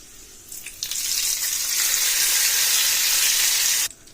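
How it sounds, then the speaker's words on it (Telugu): A hot tempering of dried red chillies and curry leaves hits a pot of dal and sizzles loudly and steadily for several seconds, close by with no talking, before cutting off sharply. "ఇప్పుడు మనం తాలింపును పప్పులో వేసి కలుపుకోవాలి"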